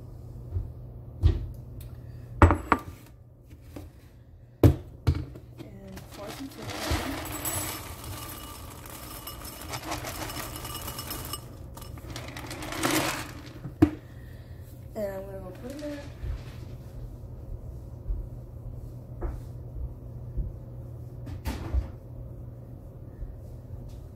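A bowl is taken from a kitchen cupboard amid cupboard doors opening and closing and scattered clinks of dishes, sharp knocks and clatters spread over a quiet room with a low hum.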